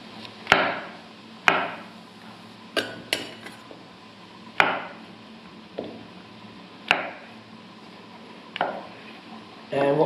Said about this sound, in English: Mushrooms, carrots, just roughly diced.